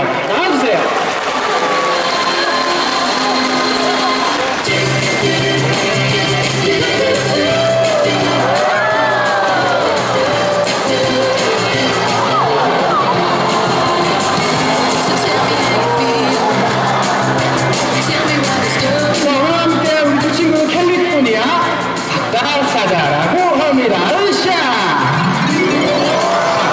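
Audience at a seal show at Seoul Grand Park applauding and cheering with whoops and yells, a loud, sustained crowd din with a voice speaking over it.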